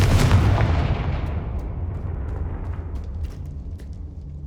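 Confringo blasting spell going off in Hogwarts Legacy, a single loud fiery explosion with a heavy boom that decays into a long rumbling tail over a few seconds.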